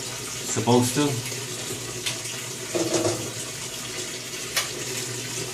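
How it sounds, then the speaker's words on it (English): A home washing machine filling with a modest amount of water, a steady rushing inflow with a few louder bumps and clunks, heard close up without talking. "it takes a little while for my washing machine to fill up with not so much water"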